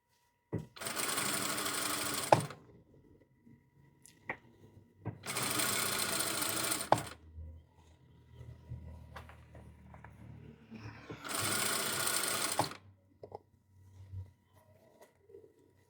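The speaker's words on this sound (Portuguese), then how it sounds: "aqui eu vou começar na lateral, costurando a manga na blusa com retrocesso" Sewing machine stitching a sleeve onto a women's dress shirt with a 1 cm seam, running in three steady bursts of about two seconds each, separated by quiet pauses and faint handling noise.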